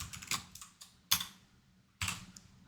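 Typing on a computer keyboard: a handful of quiet, close key clicks in an irregular rhythm, a few slightly sharper taps standing out, with no voices.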